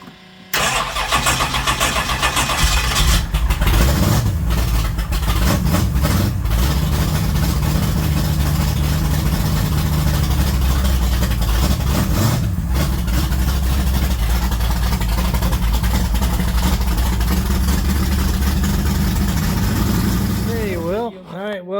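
A race car engine cranks and fires, then settles into a loud, rough idle that runs steadily and close for about twenty seconds before cutting off.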